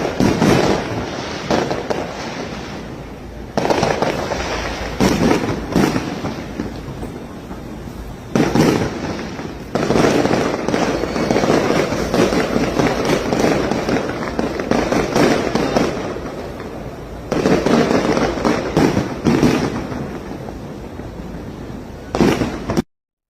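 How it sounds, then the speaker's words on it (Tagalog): Fireworks bursting at a celebration for fans, a loud, dense run of booms and crackles in repeated waves over about twenty seconds with brief lulls between volleys. "dito naman tayo sa pa-fireworks na yan na bumulaga sa mga fans ni Ate Lakam"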